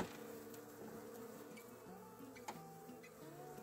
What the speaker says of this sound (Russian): Вот видите, пчелки совсем немножко.